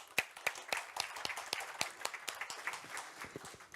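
An audience at a cyber and privacy conference applauds the first speaker of the day, a short burst of brisk clapping from a moderate-sized crowd that fades slightly toward the end.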